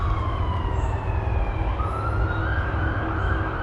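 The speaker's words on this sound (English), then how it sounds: "Is that siren ever going to stop?" An emergency vehicle siren wails steadily near a river, its rising and falling tone sounding continuously over loud outdoor background noise, with no speech.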